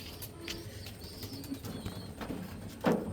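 Soft, low coos from a large racing pigeon repeat a few times against a quiet background, with faint chirps and rustling nearby.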